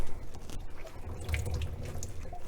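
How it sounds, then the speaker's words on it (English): Water trickles and drips steadily from the squeezed wet fur of a six-week-old Shih Tzu puppy, a soft wet splashing that continues throughout at close range. "squeeze some of the water out"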